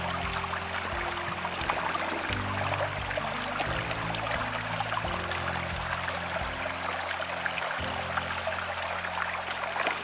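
Continuous splashing and trickling water as it is scooped and poured into a camping water container at a woodland wild camp, close by and steady, with no one speaking.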